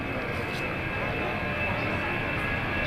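C-5A Galaxy military transport with four General Electric turbofans spooling up to full power for takeoff at the 2003 New York International Airshow, a steady, loud broadband jet roar with a faint high whine, continuous throughout.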